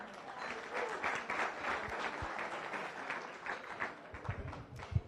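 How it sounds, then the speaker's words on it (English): Audience at a Las Vegas Rotary Club meeting gives a sustained round of applause, steady dense clapping filling the room for several seconds with a few sharper claps near the end. "So I'd like to have a nice round of applause for them,"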